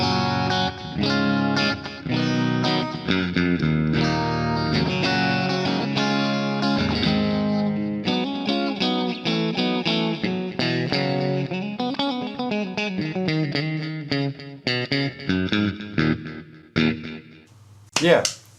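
An electric guitar plays a clean tone through a MOOER Black Truck multi-effects pedal, with a run of strummed chords and picked notes carrying light chorus and reverb, steady and close, ending in a few sharp final strums.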